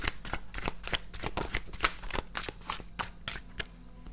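Voyage of the Soul oracle card deck being shuffled by hand, a rapid series of close, crisp riffling card snaps in quick rhythm, heard alone without talk.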